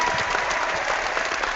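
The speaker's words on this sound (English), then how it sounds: "do you guys want a last applause?" Brief, steady applause from a small podcast audience at the end of an episode, dense continuous clapping with no voices over it.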